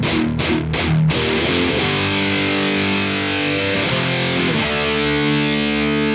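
Reamped and amp-sim distorted electric guitars play together, opening with three quick muted chugs before a thick, sustained, wall-of-gain chord passage. Loud, with no speech.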